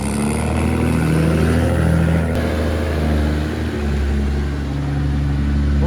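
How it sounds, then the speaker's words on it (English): A tractor engine pulls away along a country road, its revving drone loud and steady throughout with a slight rise and fall in pitch as it labours, no voices over it. "It actually sounds like a tractor pulling out."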